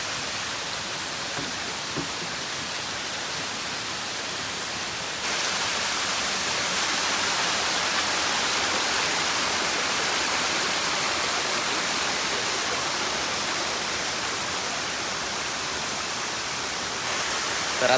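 Water from a hillside stream pours steadily into a can, a dense, continuous rushing hiss that grows slightly louder after a few seconds and then stays constant, with no talking.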